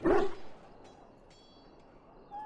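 A dog whimpers briefly in Dragon Age: Origins, one short whine at the very start of a quiet moment, followed by faint low background ambience.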